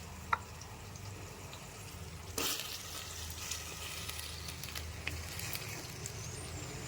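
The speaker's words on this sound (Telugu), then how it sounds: "ఇవి బాగా ఆయిల్లోనే మగ్గాలండి ముక్క మెత్తబడేంత వరకు వేయించుకోవాలి మనం" Peas, carrot, beans and potato frying in oil, a soft continuous sizzle with occasional stirring scrapes and one louder burst as more goes into the pan, close and fairly quiet.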